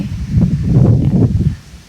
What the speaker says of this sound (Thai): ลมแรงขนาดไหน